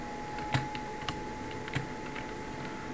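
A computer keyboard spacebar being pressed during game testing, producing a few sharp, close clicks spaced about half a second apart over a faint steady hum.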